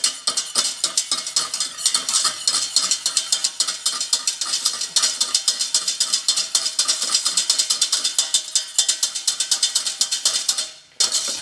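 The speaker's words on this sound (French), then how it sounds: "Je vais ajouter quelques morceaux de beurre froid. Et on fouette." Cold butter pieces being whisked into a bordelaise sauce, a whisk clicking rapidly and steadily against the pan in a dense, continuous rhythm for the whole stretch, with a brief pause near the end.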